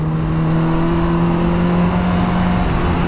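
A motorcycle engine with a quick shifter roars loudly and steadily at high revs while being ridden, a constant droning tone with no clear breaks.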